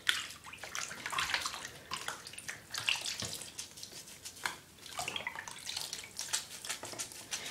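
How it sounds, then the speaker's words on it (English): Water sloshes and splashes in a bath as a silicone doll is bathed, with irregular close splashes and trickles rising and falling throughout, fairly quiet and without talk. "I'm going to squirt it in the water like that"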